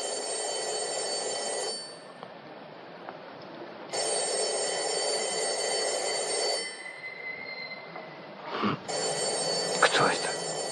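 A telephone bell rings in three loud, sustained bursts separated by short pauses, with voices audible around the rings.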